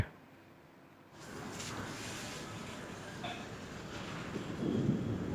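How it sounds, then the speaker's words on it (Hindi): Strong, cool wind gusts across an open spot under cloudy skies, a broad rushing roar that swells in after a quiet start and buffets the microphone, growing louder toward the end. "बढ़िया तेज़ हवा चल रही है"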